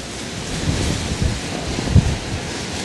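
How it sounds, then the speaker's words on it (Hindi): Strong wind at a hilltop hotel on Mykonos buffets the microphone in a steady rumbling roar with a few heavier gusts, loud and continuous with no talk. "वैसे हवा अभी भी नहीं रुक रही है"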